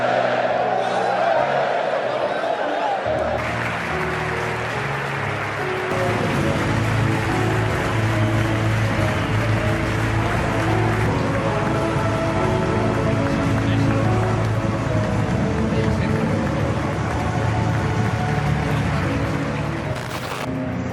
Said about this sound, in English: a heartbreaking standing applause as his last goodbye